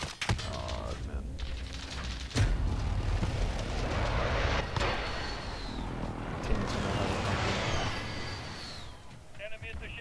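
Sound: precision airstrike explosions in Call of Duty: Modern Warfare video game

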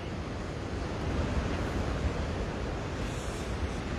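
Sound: rough sea waves pounding the Black Sea coastal road

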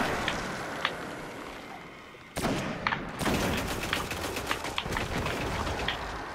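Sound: sniper rifle shot in the video game Destiny

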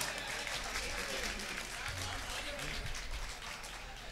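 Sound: audience applause at poetry gathering

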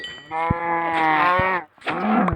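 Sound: cow

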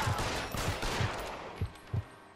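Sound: Tommy gun fire in the video game L.A. Noire

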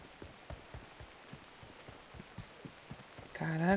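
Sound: rain intensifying in video game PUBG Mobile, Erangel map

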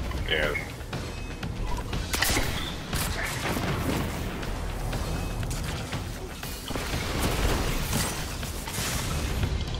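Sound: grenade explosions, video game Destiny 2

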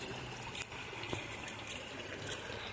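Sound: water gushing from a burst pipe, flooding the street

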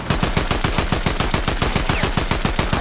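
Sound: gunfire in a video game

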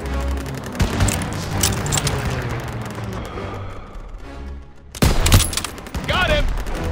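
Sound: gunfire in the video game Call of Duty WWII

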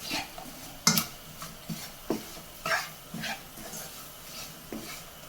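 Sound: stirring gram flour frying in a pan

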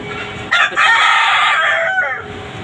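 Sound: rooster crowing on a poultry farm

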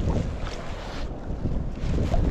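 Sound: strong wind gusts on a reservoir

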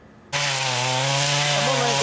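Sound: chainsaws felling old trees in jungle

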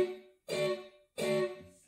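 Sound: electric guitar chord barely struck and muted

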